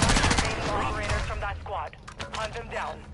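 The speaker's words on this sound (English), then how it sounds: "I'm still using that pistol." Rapid pistol gunfire in the First Class Trouble game, a quick cluster of sharp, close shots up front that fade into softer scattered cracks, with voices talking over it.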